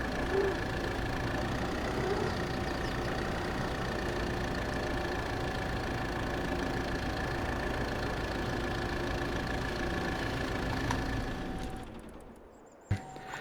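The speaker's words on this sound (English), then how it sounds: "I think we can leave the tractor sit there for now" A tractor engine idles steadily in Farming Simulator 22, a constant mid-pitched rumble with a faint tonal whine, close and unchanging before cutting off near the end, followed by a brief click.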